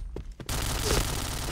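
Video game gunfire breaks into a dense, loud burst of rapid shots after a couple of faint earlier pops.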